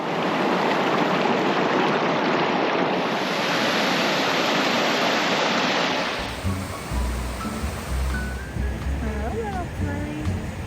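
Loud, steady rushing water of a mountain stream roars for several seconds, then gives way to a quieter, more open outdoor background.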